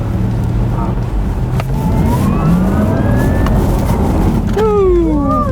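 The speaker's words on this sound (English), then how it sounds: "What is on right now is the sports sound mode." A Porsche Taycan electric car drives in its sport sound mode, giving a loud, continuous synthetic whine with rising and falling tones over road rumble, and people talk over it.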